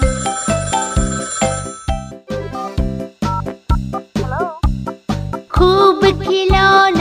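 A bright, melodic telephone bell ringing within a Hindi children's rhyme, repeated jingling tones in a bouncy rhythm over a musical backing, loud and close.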